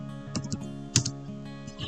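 Keys clack on a computer keyboard as an IP address is entered while configuring a router, a brief run of light, close, uneven taps with one sharper keystroke in the middle.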